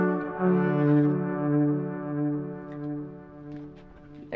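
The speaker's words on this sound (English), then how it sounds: "What a delay is basically an echo of whatever sound you give it." A bowed string instrument sent through an Electro-Harmonix delay pedal, a sustained note with echoing repeats that swell and fade in rhythmic waves, alone and fairly quiet.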